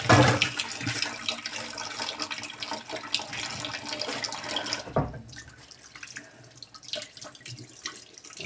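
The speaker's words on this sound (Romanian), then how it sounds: "Asta să mă spăl pe mână." Tap water runs steadily from a kitchen faucet as hands are washed mid-way through making a Romanian layered cake, then cuts off sharply, leaving quieter handling sounds afterward.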